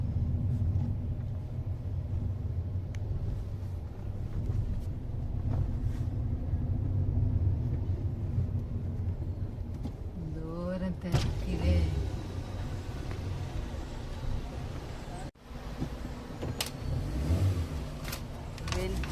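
A car drives into the Calicut airport area to park, its engine a steady low rumble heard from inside the cabin, with a brief pause near the end. People talk over the engine noise.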